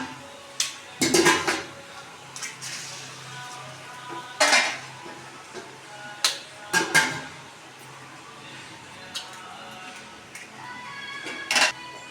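Fish roe fry cooking in a pan, stirred with a utensil, gives intermittent scraping clinks and clatters against the metal over a faint background sizzle.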